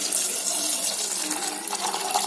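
Water streams steadily into a cooker holding salted peanuts, a continuous close splashing pour lasting a couple of seconds.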